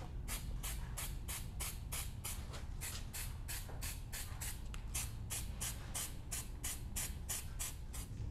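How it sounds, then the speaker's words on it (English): Steel-It stainless steel paint sprayed from a can onto a freshly cooled aftermarket Panhard correction suspension kit for a lifted 4Runner, FJ Cruiser or Lexus GX, a steady close hiss pulsing in short regular bursts throughout, with no talk. "so now that the kit has cooled down a little bit, we'll go ahead and spray it."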